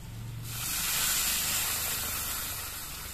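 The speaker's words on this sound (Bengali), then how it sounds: "এবার এর মধ্যে আমি ঝোল দিয়ে দিচ্ছি।" Broth poured into a hot pan of spiced potatoes for a fish curry sets off a sudden loud, sustained hiss of steam and sizzling that stays strong and close, with no talk.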